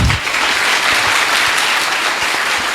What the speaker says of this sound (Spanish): Aplauso pues para el hermano.